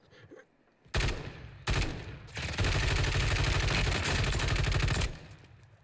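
Gunfire in the video game Rebirth, with short bursts of shots followed by a long, loud, sustained rattle of automatic fire that cuts off near the end.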